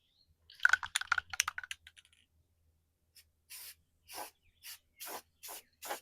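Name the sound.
spray painting with Rust-Oleum Satin Vintage Teal spray paint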